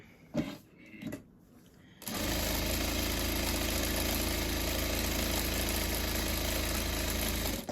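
A sewing machine runs steadily and loudly for about six seconds, stitching a seam on a fabric butterfly doll, after a brief stretch of quieter handling noises at the start.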